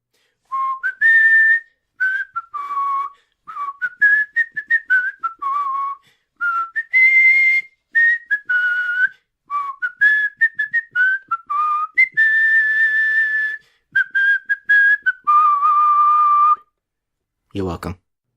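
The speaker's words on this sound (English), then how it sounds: "I can't sing it, but I can whistle it." A person whistles a bouncy, tuneful melody in short phrases with brief pauses, close and clear, ending with a sharp knock.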